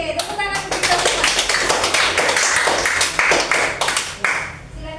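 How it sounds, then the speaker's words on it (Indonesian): A classroom of students breaks into lively applause, many hands clapping close by in a dense burst that fades near the end, with voices mixed in underneath. "tepuk tangan untuk kita semua"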